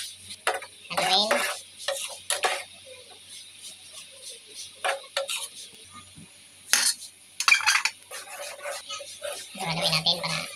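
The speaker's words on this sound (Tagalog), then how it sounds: "Haluin." Mung bean and vegetable soup being stirred in a pot, with intermittent scraping and clinking of a utensil against the metal, soft bubbling between strokes, and a voice briefly talking.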